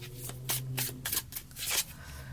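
Tarot cards are shuffled by hand in a quick, close, fairly quiet run of crisp riffling bursts, heard alone.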